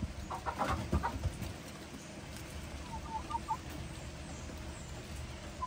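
Backyard hens cluck and murmur at low level among a few chickens by a coop, with scattered soft calls over steady outdoor rumble.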